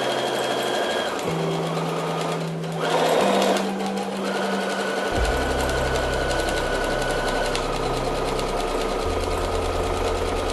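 Sewing machine stitching along a marked diagonal line on fabric for a bowl holder, a continuous mechanical hum whose pitch steps up and down as the speed shifts, with a short burst of rattling near the middle.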